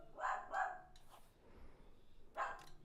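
A dog barks three times, two quick sharp barks close together followed by a pause and a third bark, fairly near and clear against a quiet room.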